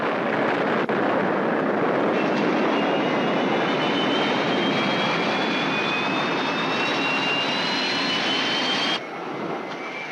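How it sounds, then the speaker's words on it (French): Spacecraft engines roaring at full power for takeoff, a dense, loud, steady rush with faint rising whine tones, sustained for about nine seconds before abruptly dropping to a lower rumble. "Mise à feu. Décollage."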